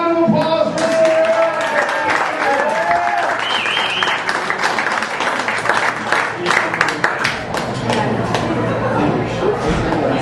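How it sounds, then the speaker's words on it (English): Audience applause for Sierra, the eldest daughter, at a retirement roast for Paul Mauk in a Detroit pub: loud, dense clapping from a crowd that runs steadily through, with scattered voices and some cheering mixed in. "How about a big round of applause for Sierra?"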